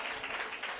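Brief burst of congregational clapping in a Living Water Church service, a continuous, even patter of many hands heard from within the room.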